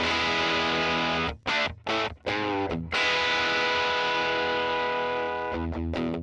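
Distorted electric guitar through Helix amp and cab simulation with a thick amplified tone, a few choppy chords then a long sustained ringing chord.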